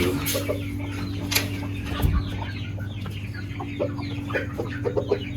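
Rooftop hens and a rooster cluck steadily at close range, with short repeated calls over a constant electrical hum and a brief low thump partway through.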